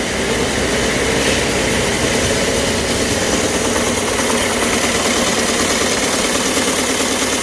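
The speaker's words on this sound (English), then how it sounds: "So they just keep chugging away. So that's weaving 4 separate straps at once?" Industrial weaving machine running at about 1,000 RPM, weaving four ratchet straps at once, gives a loud, steady, dense mechanical chatter and hum that continues without a break.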